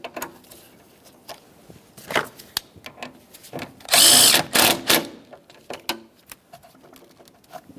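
A power tool snugs a 10mm mounting bolt on a 2009-2014 Nissan Maxima radiator fan assembly, sounding as a loud whirring burst of about a second in the middle of scattered clicks and handling noises, with no talk.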